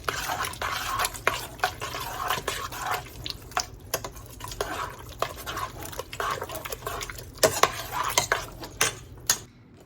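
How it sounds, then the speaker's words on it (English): A spoon clatters and scrapes repeatedly in a pot as Tex-Mex chili mix is stirred into chili, a busy irregular rhythm of clinks over a low background. "we are going to add our packet of Tex-Mex chili mix. And we're just going to stir that in."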